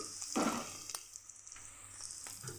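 Chicken frying in a pan on the stove for a curry gravy, with a steady close sizzle and crackle punctuated by a few stirring scrapes.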